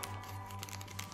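Origami paper being folded for a Bodo Haag basilisk model gives soft, close crinkling and rustling over a low steady hum, with no talking.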